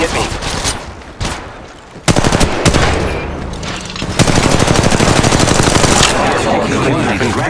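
Enemy gunfire in the mobile game Apex Legends Mobile: loud, rapid automatic bursts with short pauses between volleys, building into sustained firing in the second half.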